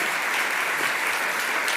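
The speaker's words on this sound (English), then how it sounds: "You can give them applause if you like." Audience at a regional state-of-the-region event applauding, a dense, steady wash of clapping close by for the whole stretch with no pauses.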